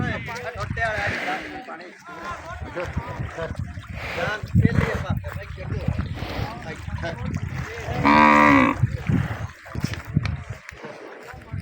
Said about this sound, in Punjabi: ਕੋਈ ਭਾਈ ਮੱਝਾਂ ਲੈ ਕੇ ਨਿਕਲਦੇ ਪਏ ਨੇ